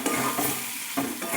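Turmeric and salt being stirred into vegetables in a pan, a steady close sizzle with scraping stir strokes that swell at the start and again near the end, no voices.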